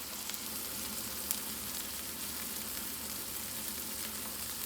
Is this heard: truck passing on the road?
no